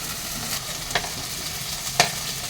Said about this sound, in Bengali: আমি এখন আলু আর এঁচড় যেটা ভেজে রেখেছিলাম সেটা অ্যাড করে নেব।